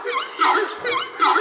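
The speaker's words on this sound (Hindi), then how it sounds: "Horned screamer. इसकी आवाज सुनकर आपको ऐसा लगेगा जैसे कोई गधा जोर से चिल्ला रहा हो" A horned screamer gives a run of four short, harsh honking calls in quick succession. They are loud, close and heard alone without talk.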